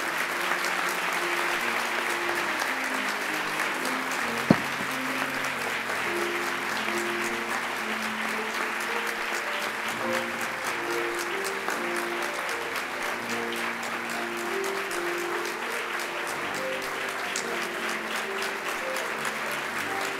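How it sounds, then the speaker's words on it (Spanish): Sustained applause from a university ceremony audience during a flag-bearer handover at UNRC, a steady dense wash of clapping holding for the whole stretch, with a faint tonal music-like layer beneath and one sharp knock early on. "con un fuerte aplauso de reconocimiento"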